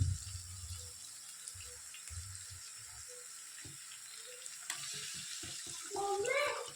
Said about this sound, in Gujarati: બસ આટલું પાણી નાખીએ